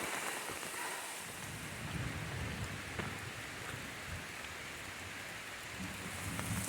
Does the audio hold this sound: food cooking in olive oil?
no